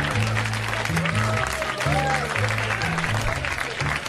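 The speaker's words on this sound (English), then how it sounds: "I need that sporadic applause on the CD" Scattered applause rises and falls from a crowd, broken and uneven rather than a full ovation, with some murmuring voices mixed in.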